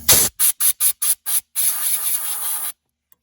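Compressed air blasts around a part on a Yamaha Grizzly 550 ATV: five short, sharp hissing bursts in quick succession, then one longer sustained blow of about a second, loud and close, followed by silence.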